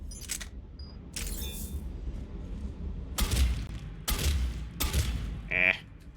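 A shotgun in Mass Effect 3 fires four heavy, booming shots at irregular intervals, each a sharp loud blast with a short decay, separated by quieter game ambience and a brief mechanical whir.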